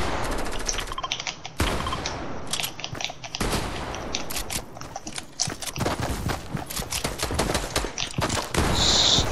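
Fortnite gunfire crackles in rapid bursts and sustained automatic volleys, loud and close, with short pauses between bursts and no speech over it.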